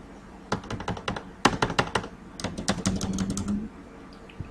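Keystrokes on a computer keyboard while code is typed in a Python lecture, clattering in quick uneven bursts with short pauses, close and clear, no voices.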